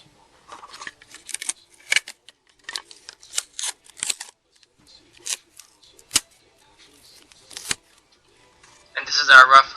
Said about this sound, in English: This plastic was flexible enough to be cut with a scissors